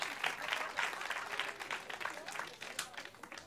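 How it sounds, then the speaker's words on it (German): Festival audience at an outdoor theatre event applauding the sound technician, a quiet, distant patter of clapping from a modest crowd that continues evenly for a few seconds. "Ein Riesenapplaus für den Tontechniker"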